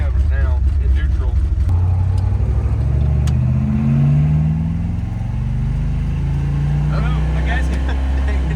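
A revived high school car idles high in neutral with a throaty, uneven rumble close by, while people talk over it and the engine note settles partway through.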